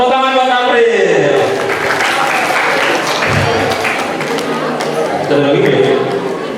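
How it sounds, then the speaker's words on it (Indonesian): Classroom applause for a student at an Islamic boarding school session, a broad sustained clatter of many hands filling the room for several seconds, with a teacher's voice rising over it at the start. "Tepuk tangan buat April."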